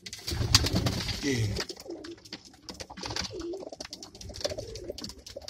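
Pigeons in a loft give low, throaty coos close by, repeating through the clip while someone says a brief word.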